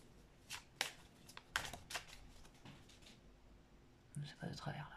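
Sibylle oracle cards being shuffled by hand, a quiet run of soft riffling snaps and flicks in several bursts with faint background noise.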